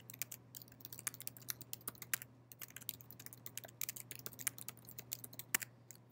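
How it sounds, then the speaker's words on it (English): Fingers type an email address on a computer keyboard, a rapid uneven stream of light key clicks, faint and close, with a steady low hum underneath. "just go ahead and type in your email address."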